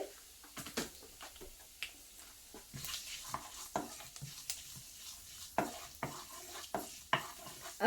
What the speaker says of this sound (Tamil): கொஞ்சம் கடுகு சின்ன சீரகம் பெரிய சீரகம் வெந்தயம் உரம் போட்டாச்சு